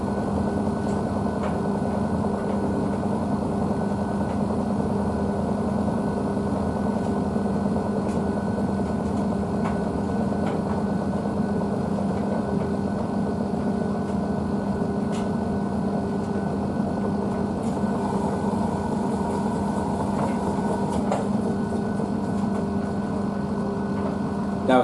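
A Blomberg WNF9448 washing machine spinning at 600 RPM with a dog bedding and towel load, a steady droning whir with a low hum and faint rattles, continuous and unchanging throughout.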